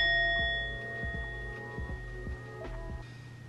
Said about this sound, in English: So I like to end anything that even anything that resembles yoga or relaxation with a little bit of a chime.